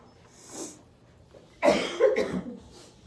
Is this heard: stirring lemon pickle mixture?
no